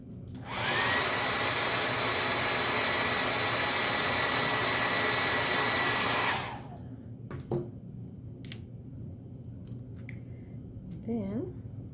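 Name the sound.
drying the craft piece, likely with a hair dryer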